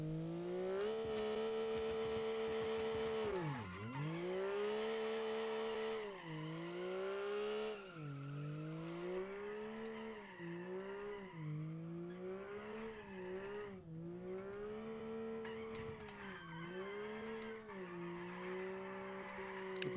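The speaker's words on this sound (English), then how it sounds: "Burnouts all day" A car in the BeamNG driving simulator does a long burnout, its engine revving and wavering up and down while tires squeal steadily for about twenty seconds, close and continuous with no talking.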